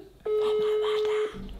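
A telephone call being placed gives a single steady electronic tone lasting about a second, clear and prominent over faint background noise.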